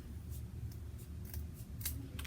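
Scissors snip the corners off sheets of paper for a paper flower craft, a series of short, crisp cuts spaced irregularly over a soft background rustle, fairly close and quiet.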